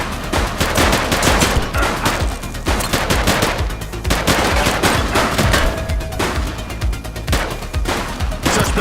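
Sustained bursts of gunfire from a police shootout in the video game The Precinct, loud and dense, with rapid automatic volleys and single shots overlapping throughout.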